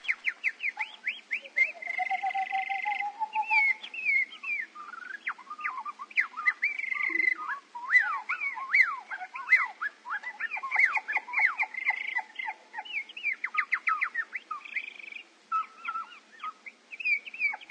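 A human whistler imitates bird song on an old recording: rapid chirps, trills and warbling slides in bursts, fairly close and clear, with no talking.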